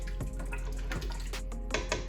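About a quarter cup of water is poured into a pot of seafood chili, a continuous splashing, trickling pour with small drips, fairly close and alone without speech.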